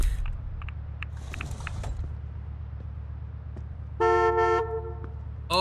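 A car horn in a security guard video game gives a few short toots early on, then one loud sustained honk that stands alone over a low hum, with a clank between them.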